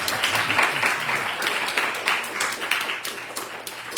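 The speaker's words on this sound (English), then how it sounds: "Hey, where's your clapping?" A group claps together at a devotional class on Hawaii's Big Island, steady dense applause filling the whole stretch at moderate loudness without voices.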